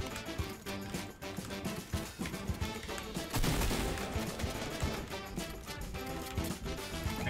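Dense bursts of gunfire crackle nonstop through a Fortnite Battle Royale arena fight, rapid overlapping shots from close range with a heavier louder stretch midway, no talking.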